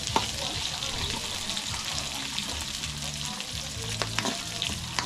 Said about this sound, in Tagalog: Mantika kasi, guys, magpitik-pitik siya ba?